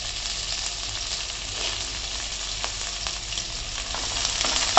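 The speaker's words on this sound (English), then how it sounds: "So to help the onions fry" Thinly sliced onions and green chilies fry in a pan with a steady, close hiss and crackle that swells slightly toward the end, with no voices.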